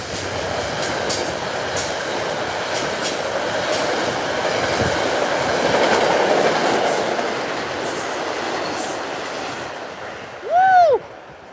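A diesel train and a Bombardier M7A electric train run side by side at Fordham, with a steady rolling rumble, rhythmic wheel clatter and a brief rising squeal near the end.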